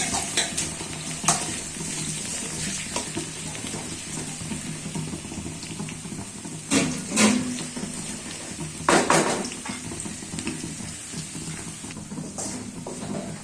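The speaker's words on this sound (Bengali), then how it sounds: "লাস্টে আপনার পেঁয়াজ, তেজপাতা, রসুন, জিরা এগুলা দিয়ে ফোড়ন দিবেন।" Onion, bay leaf, garlic and cumin sizzle as they are tempered in hot oil. A steady frying hiss plays throughout, broken by several louder scrapes and clatters from a spoon against the pan. No one speaks.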